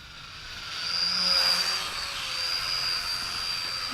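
A Mould King 33034 toy quadcopter drone flying without prop guards in expert mode, a steady high-pitched whine of small propellers that swells and eases slightly as it maneuvers nearby, with a sharp knock at the end.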